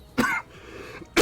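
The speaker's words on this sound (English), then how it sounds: "I'm still fighting off the cough." A person still recovering from an illness gives two sharp coughs, one near the start and one at the end, separated by a quiet pause, close and fairly loud.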